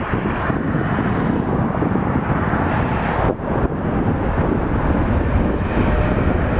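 Air Canada 856 airliner taking off from runway 23 at Toronto Pearson, a loud steady jet roar with heavy wind buffeting on the microphone, dipping briefly midway before surging back at full strength.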